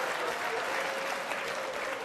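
Audience applause fills the room at a stand-up comedy show, a steady dense wash of clapping that holds at full strength from start to finish with no speech over it.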